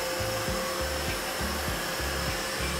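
Narwal Freo X Ultra robot vacuum cleaning a room corner, a steady low whirring motor hum with a rhythmic pulsing as it works back and forth, fairly quiet and continuous with no talk.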